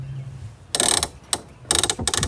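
A sailboat mainsheet is sheeted in to pull the boom into its crutch, giving three bursts of close, loud ratcheting clicks from the winch or block, with short pauses between pulls.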